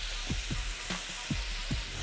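Oil sizzles in a pan under a steady close hiss, broken by several short low thumps that land at uneven intervals.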